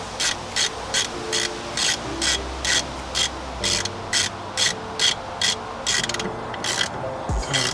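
Brake caliper bolts are threaded in by hand with a ratchet on a car during a rear brake pad service, giving a steady run of close, rhythmic ratcheting clicks with no voices.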